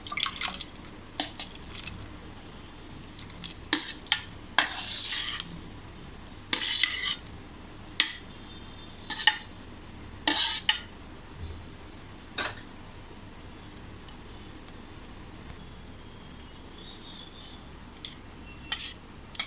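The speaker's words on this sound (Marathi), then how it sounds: "म्हणून आपण हे आता हे दुधात मिक्स करूया" A spoon stirs chopped watermelon into milk for a summer sherbet, giving irregular clinks and scrapes against the bowl with soft liquid drips, moderately close and with no talking.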